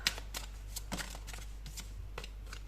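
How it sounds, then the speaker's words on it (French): Tarot cards being handled and drawn from the deck during a reading, a run of light, quick flicking and slipping card sounds, close and soft, with no one talking. "on va prendre une première carte déjà"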